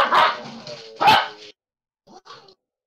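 Dogs bark in two loud bursts close together, followed after a pause by a couple of fainter yips, with no talking.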